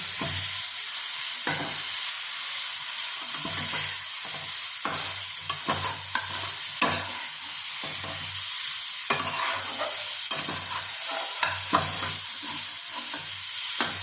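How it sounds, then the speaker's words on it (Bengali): Fish being stirred into fried masala in a home kitchen pan, a constant sizzle with repeated close scraping and stirring strokes throughout, no voices. "এবার এর মধ্যে আমি মাছটাকে দিয়েও আর একটু নাড়াচাড়া করে নেব"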